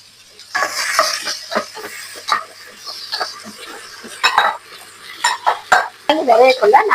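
Crab pieces being stirred into a pot of odiyal crab soup with onion, potato and carrot, giving scattered scraping and clinking knocks of a utensil against the pot, close and moderately loud, with some faint vocal sounds in between.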